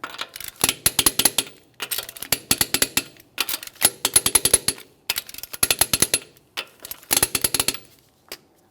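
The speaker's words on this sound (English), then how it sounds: "We're going to be torquing these to 80 foot-pounds in a crisscross manner." Rapid ratcheting clicks from a torque wrench tightening the wheel lug nuts of a Mitsubishi Lancer to 80 foot-pounds, repeated in short bursts with brief pauses between them, close and clear.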